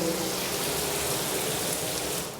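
Water runs from a detachable shower head in a modern bathroom of a rental house in Portmore, Jamaica, making a steady, full rushing hiss that fades slightly at the end.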